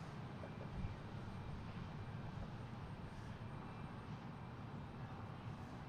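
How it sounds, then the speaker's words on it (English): An American Airlines Embraer E175 regional jet passes at Boston Logan airport as a steady, broad engine roar. The roar holds at an even level throughout and no voices are heard. "I have American E175 coming from Buffalo."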